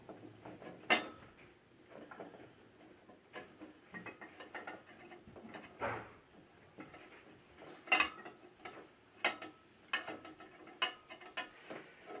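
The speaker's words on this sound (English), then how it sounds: "we're going to go ahead and plug the bulb into the 4 prongs here" The plastic parts of a UV sterilizer bulb and its four-prong socket click and rattle up close as they are fitted together by hand, with intermittent small knocks and ratcheting taps spread over several seconds.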